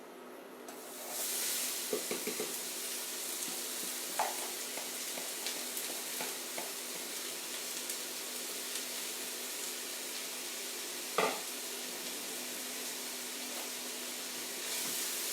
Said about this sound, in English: I'm gonna add the finely diced onions.